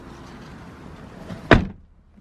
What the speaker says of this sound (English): Now the door is shut.